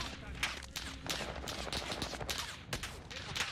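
Rapid bursts of gunfire from the video game Call of Duty: Warzone crackle through nearly four seconds, with sharp single shots and clustered volleys at moderate distance while players talk over the action.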